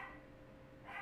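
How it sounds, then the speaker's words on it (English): A dog lets out a couple of faint, short barks or yips indoors, one at the very start and another near the end, quiet and separated by a brief lull. "Can't have her keep barking like that."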